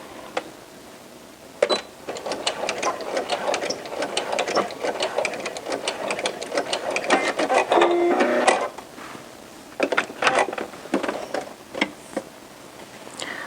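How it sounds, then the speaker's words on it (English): A sewing machine back stitches a T-shirt seam in rapid, even bursts of needle clatter, pausing briefly between runs, close and clear with no talking. "And then I'm going to back stitch."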